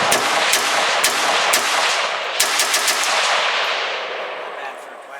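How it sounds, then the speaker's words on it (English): A CETME LC carbine fires a quick burst through a small Spanish 12-round magazine, sharp loud reports stacking into a dense, echoing volley that trails off as the magazine runs dry. "let's run a few rounds with it with the little Spanish 12-round mag."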